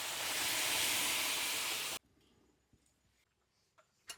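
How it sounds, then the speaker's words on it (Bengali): Water from boiling peas poured into a hot kadai for vegetarian ghugni, giving a loud, steady hiss that cuts off abruptly after two seconds, leaving faint kitchen clinks. "এখন কড়াইতে দিয়ে দেব মটর সিদ্ধ করা জল"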